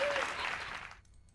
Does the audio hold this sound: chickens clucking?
no